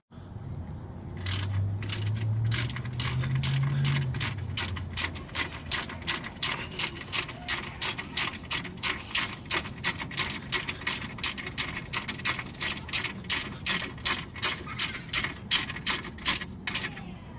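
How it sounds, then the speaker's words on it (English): A ratchet tightens the brake caliper bolts on a 2002 Chevy S-10 disc brake job, giving a long run of sharp, evenly spaced clicks up close. A low murmur sits underneath at the start. "you want to go ahead and tighten these back up"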